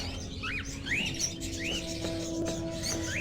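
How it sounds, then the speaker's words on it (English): Small songbirds chirp and tweet in repeated short rising calls over a steady low hum inside the Fahrenheit video game, a few calls close together with no talking. "I have to feed the birds now."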